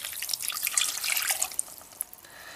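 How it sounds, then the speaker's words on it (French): Water poured into a saucepan holding fine sugar for caramel, a short, close trickling and splashing pour with a few distinct drips near the end. "Ajoutez 15 centilitres d'eau."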